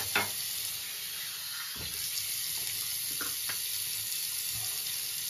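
Tap water runs steadily into a sink while someone rinses off after a wet shave, a continuous close splashing wash with a few brief knocks, no talking.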